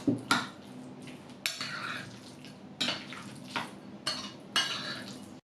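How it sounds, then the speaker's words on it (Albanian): Avocado being mixed with tomato and parsley in a bowl for bruschetta, a series of close, soft scraping and stirring strokes, each one a quick clink followed by a brief squelching drag, roughly six in a row. "Do përzijmë mirë avokado me domate me majdanozin."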